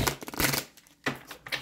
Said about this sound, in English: Let me shuffle the cards one more time